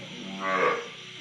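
A cow on a cattle farm gives a single short moo that swells and fades within about a second over a steady low background hum.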